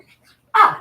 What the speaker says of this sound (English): She just ran in circles 3 times, barking at her tail, and then walked off.